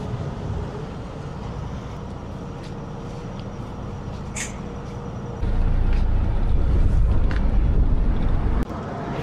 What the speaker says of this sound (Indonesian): Anginnya cukup lumayan kencang ini, pas kebetulan juga pasang jadi angin bertiup.